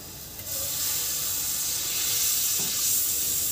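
Oil poured into a hot pot for degi chicken biryani, giving a steady close sizzle and hiss that swells in after a brief quiet start and holds evenly to the end, with no voices.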